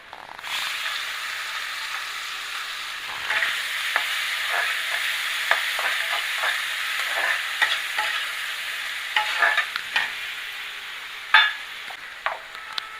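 Chopped onions sizzle and fry steadily in a hot pan while chicken is being cooked, a continuous close crackle with repeated sharp scrapes and clinks of stirring.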